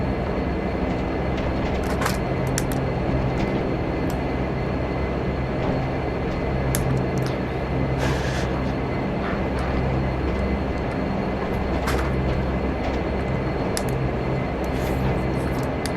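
A Flybe DH8D turboprop in the FSX flight simulator runs up to full power for takeoff, a loud, steady engine and propeller roar with occasional clicks from the cockpit.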